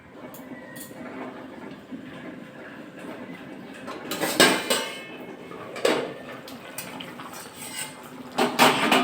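A lid clatters onto a metal cooking pot as an egg, cauliflower and potato curry simmers, giving a few sharp clanks amid steady kitchen noise, with the loudest knocks near the end.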